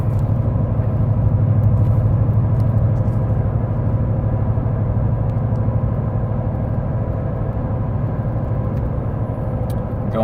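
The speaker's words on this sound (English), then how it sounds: "So here's what it sounds like at 60 miles an hour." Ford F150 5.0 V8 cruising at 60 mph with only a Magnaflow muffler and the resonator removed, giving a steady low droning exhaust and road hum inside the cab.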